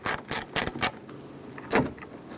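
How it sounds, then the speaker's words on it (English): Socket ratchet backing out door hinge bolts on a 2007-2014 Chevrolet Silverado 2500HD, four quick close clicking bursts in a row, a pause, then one more short click, fairly quiet. "just get your socket over them and take it off"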